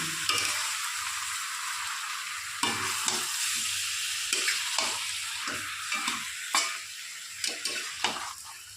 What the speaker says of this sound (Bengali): এদিকে মাংস কষা হচ্ছে